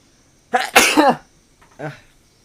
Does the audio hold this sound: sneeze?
yes